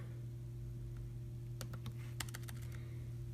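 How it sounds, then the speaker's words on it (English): Keys tapped on a computer keyboard in a short quiet burst of clicks, a handful of quick keystrokes in the second half over a faint steady hum. "we're going to type in /SSH"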